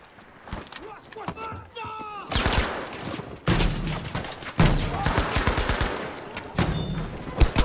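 Battlefield V gameplay with bursts of automatic gunfire from an MP40 submachine gun, sharp and close, in rapid clusters with short pauses. Footsteps and a voice talking are heard between the shots.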